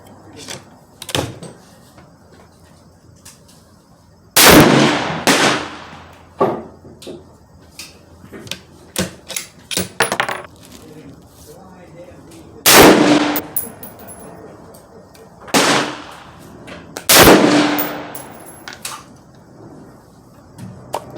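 A Savage 110 Tactical rifle fires single shots at the range while the barrel is broken in, several loud sharp reports spaced well apart, with handling clatter and talk in between.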